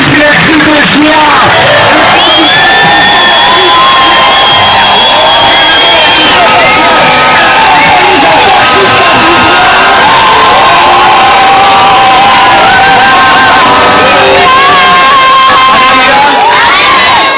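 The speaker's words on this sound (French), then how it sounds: "Acclame plus les cris de joie." A church congregation cheers and shouts for joy during a worship campaign service, a loud, dense crowd roar with whoops and high voices running continuously throughout, and voices mixed into the noise.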